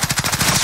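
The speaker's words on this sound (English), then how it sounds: "There are people down below shooting at us." Rapid automatic gunfire in Call of Duty: Warzone Mini Royale, a loud close burst of evenly spaced shots rattling off in quick succession with no talk.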